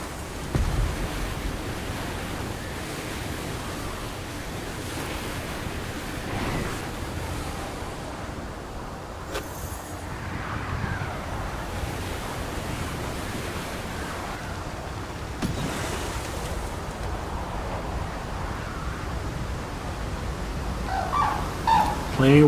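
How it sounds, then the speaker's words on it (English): Waterfalls in the video game Anthem give a steady broadband rush of falling water, constant and moderately loud throughout, with no voices over it. "Plenty of waterfalls, man."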